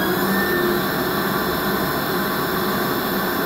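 A 47RE automatic transmission running on a dyno as it is commanded into second gear, heard as a steady, loud mechanical whine and broadband roar with no distinct shift thump, continuous throughout with no talk.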